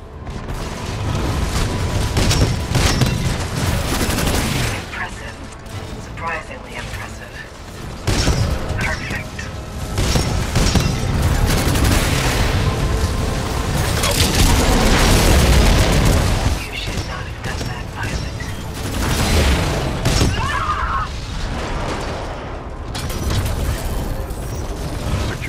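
Artillery salvo explosions in the Titanfall 2 video game, a loud barrage of heavy booms and mechanical clanks over about 25 seconds, layered with game sound effects.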